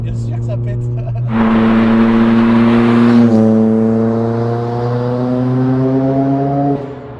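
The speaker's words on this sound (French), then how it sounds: "ton turbo là, c'est à 3000 et quelques là qui se réveille, mais on pétarade en plus" A Ford Focus RS Mk1 turbocharged engine drones steadily, then climbs into a strong, rising rev as boost builds, holding a loud buzzing tone before easing off, with the cabin sound heard from inside the car.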